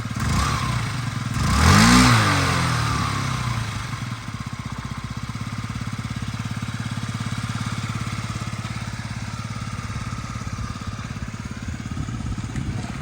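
A Yamaha Jog SA-39 ZR fuel-injected scooter engine runs close by, with a brief rev in the first couple of seconds before it settles into a steady, even idle that carries on alone.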